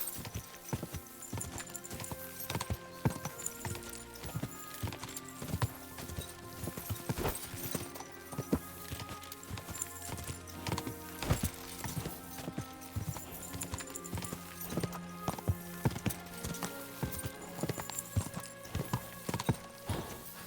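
Horse hooves gallop in a steady, rapid clip-clop rhythm throughout a race in Kingdom Come: Deliverance II, close and continuous with sharp repeated impacts.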